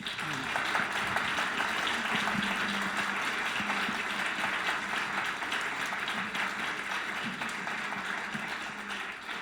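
Audience applause for a guest speaker at an academic colloquium, a steady dense clapping that fills the room for several seconds, with some voices mixed in beneath it.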